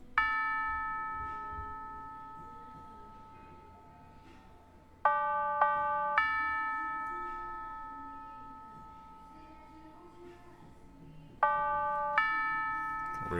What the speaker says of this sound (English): So after that pad, I added this tubular bell from some kit.